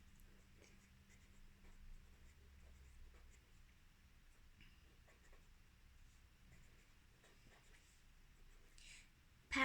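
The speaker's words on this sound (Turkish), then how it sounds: "Yazıyorum." Pen or pencil writing on paper in a quiet room, faint soft scratching strokes in short bursts with brief pauses, ending in a sudden louder rustle.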